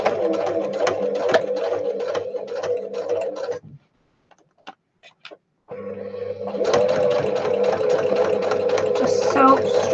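A sewing machine stitches a fabric pocket book with a fast, even mechanical whirr and ticking. It runs, stops for about two seconds with a few faint clicks, then starts again, close to the microphone.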